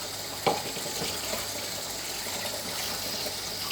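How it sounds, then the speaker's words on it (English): Steady running water from a kitchen tap while hands are washed, a continuous close gush with a small splash near the start and no talking. "turn on our tap"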